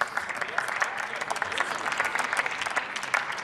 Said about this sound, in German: da kann man ruhig klatschen, das stimmt